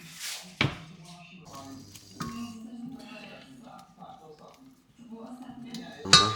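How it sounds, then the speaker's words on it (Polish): A pot is set down on a kitchen burner with a couple of sharp metallic clanks, followed by softer clinks, while someone talks nearby throughout. "I teraz to sobie wrzucam na palnik."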